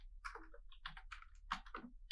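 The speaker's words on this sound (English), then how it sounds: "And right here, we're just going to be typing public." Quick irregular key clicks from a computer keyboard as code for a Revit API text-note class is typed, fairly close and steady with short pauses, no talking.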